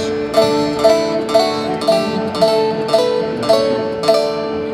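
A bright, ringing glass-bodied stringed instrument is strummed in an even, repeating rhythm through a major scale, each stroke chiming with a glassy sparkle, close and steady without voices.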